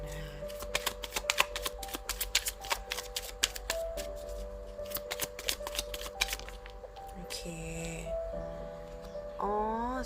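Tarot cards being shuffled and arranged by hand: a long run of rapid riffling flicks and slaps, close and steady, with a soft background hum and brief sliding card sounds near the end, no talking.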